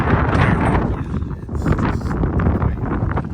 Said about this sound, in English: This wind is